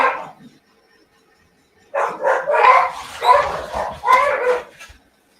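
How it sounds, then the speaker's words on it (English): Several dogs barking and fighting in a home: a short yelp, a pause, then a burst of overlapping snarling barks and yips lasting a few seconds, fairly close and loud. "dogs are fighting"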